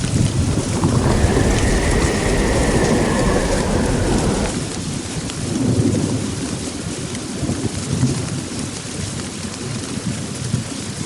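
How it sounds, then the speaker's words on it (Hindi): Heavy rain pours steadily through a forest during a thunderstorm, with a loud rumbling thunder roll in the first seconds that fades out, leaving a dense, continuous downpour; no voices. "लेकिन एक दिन अचानक जंगल में भयंकर तूफान और आग लग गई।"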